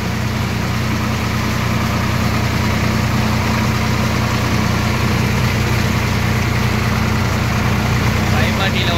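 A Swaraj 744 XT tractor engine runs steadily while driving its PTO at 540, making a constant loud low drone with vibration and no pauses; voices speak over it.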